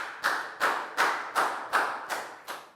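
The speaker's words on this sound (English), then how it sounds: "High five and a big round of applause for Preo" Seven evenly spaced claps from a primary school class during a maths lesson, each a sharp slap with a short room echo, moderately loud.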